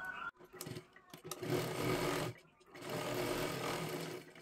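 A sewing machine stitching a katori blouse hums in steady, close runs of rapid needle strokes, briefly stopping and restarting, while someone talks over it.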